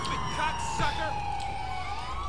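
Ambulance siren wailing in the LCPDFR police video game, a loud close electronic wail sweeping down in pitch, with a voice talking over it.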